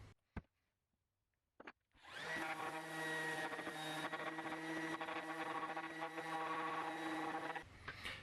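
Power sander working on a slate coaster, first a couple of brief knocks, then a steady loud whirring grind running continuously for about six seconds before cutting off.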